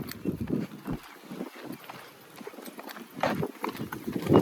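A mare with straps freshly tied on her legs is led along toward the farm, hooves clopping irregularly at close range amid faint background noise.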